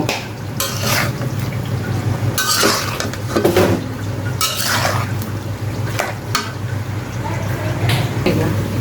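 A spoon clatters and scrapes in a pot as turmeric and chili powder are stirred into mango pickle. Several loud metallic clinks come at irregular moments over a steady low background hum.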